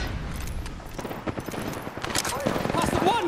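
Rapid automatic gunfire in a shooter game, busy volleys of shots crackling throughout, with voices talking over the firefight and a few brief whistling effects near the end.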